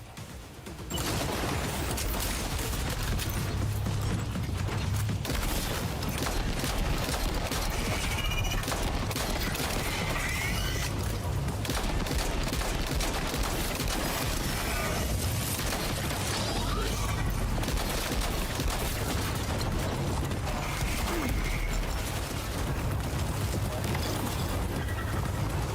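Automatic machine gun fire in a video game, loud and nearly continuous for the whole stretch, a dense rapid rattle of shots with clanking mechanical noise and no voices.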